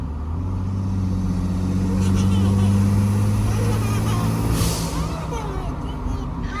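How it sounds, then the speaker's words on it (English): A 2020 Ford F-150 EcoBoost with an Injen intake and Turbo Smart blow-off valve revs loudly and steadily, then a short, sharp turbo whoosh bursts out near the end as the engine settles back. "That's the Turbo Smart blow off valve."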